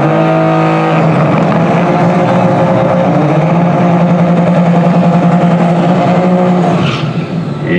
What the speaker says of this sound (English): Dobbins puts it in rear-wheel drive mode and does a big burnout waiting for Diddy.